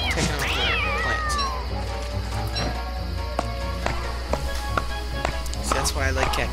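A catcoon in the video game Don't Starve gives a rising, wavering meow near the start, followed by scattered light taps and game effects over a constant low hum and rain-like background.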